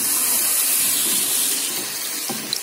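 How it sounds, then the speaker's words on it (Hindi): Water pours steadily into a cooking pot for a home-style potato curry, a loud continuous rushing splash close by that eases slightly near the end, with no talking. "अब हम इसमें थोड़ा सा पानी डालेंगे।"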